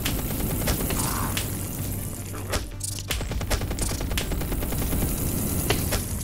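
Gunfire in the VR shooter Compound rattles in rapid bursts of sharp, close shots with booms and mechanical clacks, pausing briefly and then resuming as steady rapid fire.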